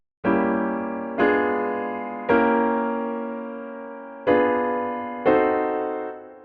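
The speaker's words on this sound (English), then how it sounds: "So if you put diminished chords up against diminished chords, you get something that sounds like this." Piano playing diminished chords stacked against other diminished chords, five struck chords with long ringing decay, close and alone.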